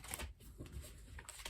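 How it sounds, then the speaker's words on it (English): A deck of tarot cards being shuffled, a short papery riffle and flutter close to the microphone, lasting barely two seconds in a quiet room. "One more shuffle."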